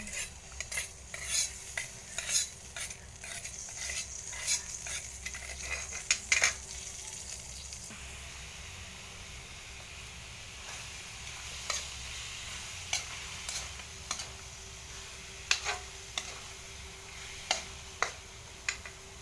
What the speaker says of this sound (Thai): เฮาก็สิมาคั่วบัด ใส่น้ำมันจักหน่อย